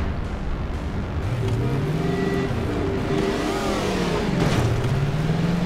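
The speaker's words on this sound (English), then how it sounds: "Hop into my Ford Mustang GT, which I used to drive here." A Ford Mustang GT drives with a loud, steady engine roar whose pitch rises and falls as it revs and shifts, close and continuous throughout.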